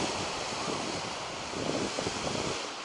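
Sea waves wash over the large stones of a breakwater on a sunny, mica-sparkling shore, a close, continuous surging rush mixed with wind buffeting the microphone.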